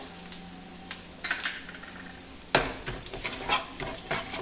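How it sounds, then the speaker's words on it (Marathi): Curry leaves, green chili, asafoetida and turmeric tempering in hot oil in a pan for a raw mango curry; crackling sizzle with repeated spoon stirs and scrapes, louder after a clatter halfway, no talk. "हे छान अशी खमंग फोडणी यायला पाहिजे. आता याला असा छान आवाज आला पाहिजे."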